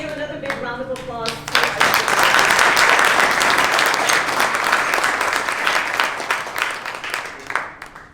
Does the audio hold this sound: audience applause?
yes